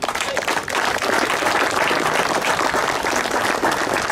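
Loud, close applause from the crowd at a karate prize-giving ceremony in Wattrelos, with a short dip before the clapping swells into a dense, continuous roar that holds to the end.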